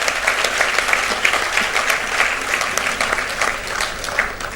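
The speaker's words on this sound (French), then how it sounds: "j'en profite pour vous demander d'applaudir quand même les parents" Sustained applause from a seated audience at a graduation ceremony, honoring the parents; dense, steady clapping fills the whole stretch with only faint crowd murmur beneath.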